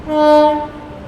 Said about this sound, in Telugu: ఇంకొక ట్రైన్ వైజాగ్లోకి ఎంట్రీ ఇవ్వడానికి వెయిట్ చేస్తుంది